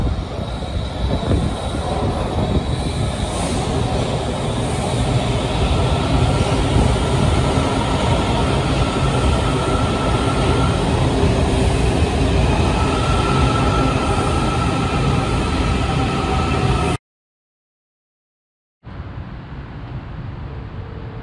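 Metro train running at speed, a loud, continuous rumble of wheels on rails with squealing tones, then a brief cut to silence before the rumble resumes.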